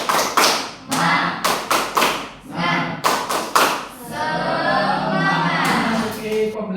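A class claps the Indonesian "tepuk semangat" cheer in a quick rhythmic pattern of bursts and pauses, loud and close, ending in a sustained stretch of clapping mixed with voices.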